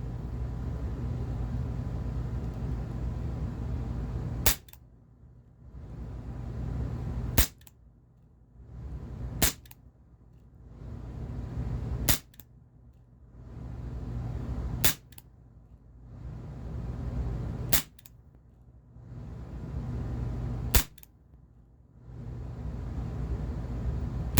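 A CZ 75 P-07 Duty CO2 BB pistol from ASG fires Crosman Copperhead BBs. Sharp, close, spaced cracks ring out at irregular intervals over a steady background hiss.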